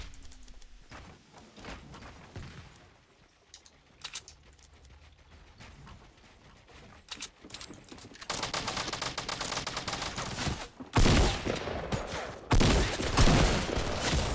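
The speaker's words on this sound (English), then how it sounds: "I don't even know where I'm being shot from now." Rapid bursts of gunfire in the Fortnite battle royale video game, near and loud, building in the second half into dense, sustained shooting with sharp volleys over brief player talk.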